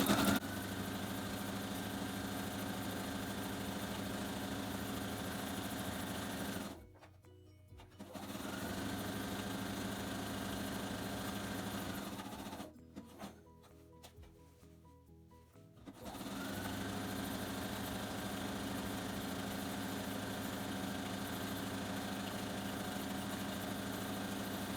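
A sewing machine stitches a fabric envelope pillow with a steady, fast motor hum and needle whir. It runs continuously, stops twice briefly, then resumes.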